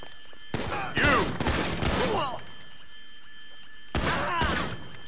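Bursts of rapid automatic gunfire in a Grand Theft Auto V shootout, two dense volleys of cracking shots separated by a quieter gap, loud and close with ringing tails.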